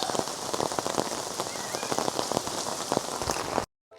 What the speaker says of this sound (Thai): ตอนนี้ฝนก็โปรยปลายลงมาแล้ว